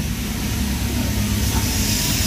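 A Toyota Avanza engine with low power and delayed throttle response idles up close, giving a loud, steady, dense rumble with no breaks.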